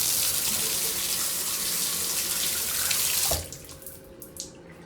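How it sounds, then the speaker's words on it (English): A hotel bathroom tap at the Premier Inn London Hayes near Heathrow is run at full blast, giving a loud, steady gush of water for about three seconds before it cuts off abruptly and leaves faint drips and splashes. "Do not turn the tap on full blast, because this happens."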